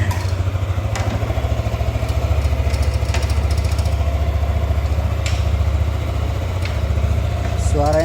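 A Yamaha NMAX scooter engine, freshly repaired at the CVT, starts and settles into a steady low idle, a close continuous rumbling hum that holds evenly throughout.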